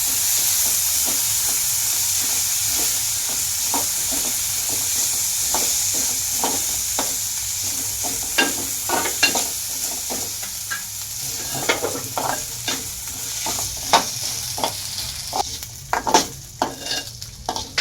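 Rice sautéing in a pan for rice kheer, with a continuous sizzle and repeated rhythmic scraping strokes of a spoon that grow sharper toward the end.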